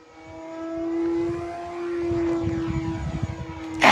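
E-flite Beechcraft D18 1.5 m RC twin-propeller plane using differential thrust: a droning engine tone that swells, fades and rises again, moderately loud, with no talking.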